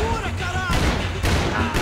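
A shotgun blind-fired in the video game Max Payne 3, heard as loud, dense booming bursts that run almost continuously through the moment, with a voice talking over them.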